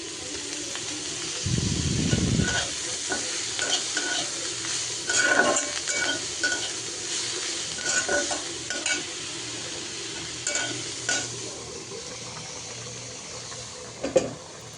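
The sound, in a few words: garlic, onion and dried chilies frying in oil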